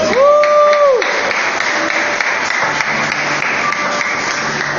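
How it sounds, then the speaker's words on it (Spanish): Church congregation claps loudly and steadily throughout, a dense sustained applause filling the room, with a brief tonal swell early on and no talk over it. "Dele fuerte palmas."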